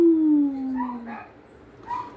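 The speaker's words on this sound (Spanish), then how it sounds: "Ahí se ven los perros, papá." A dog's high, drawn-out whine slides downward, followed by a few short whimpering yelps, fairly close with quiet background.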